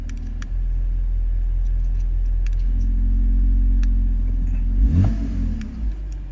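Exhaust of a 2011 BMW Z4 sDrive 2.5 rumbling low and steady at idle, then a short rev swells as the exhaust valve flap opens, close and loud with no voices.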